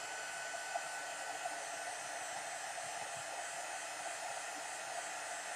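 A heat embossing tool blows hot air to melt embossing powder on card leaves, giving a steady, even, airy roar that holds unchanged throughout with no voices.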